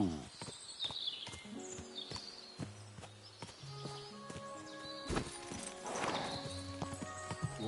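Horse hooves clip-clop in Kingdom Come: Deliverance 2 with a short neigh near the end, over game music and ambience, with occasional speech.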